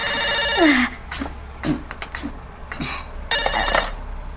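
A telephone rings in a mansion, its electronic ringtone sounding in several repeated bursts with short gaps between them, loud and close, with no talking.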